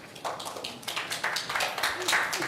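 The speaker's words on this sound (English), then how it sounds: "can we hold the applause" Scattered clapping from an audience at a city planning commission public meeting, uneven and moderately close, with a few sharper claps standing out in a brief burst.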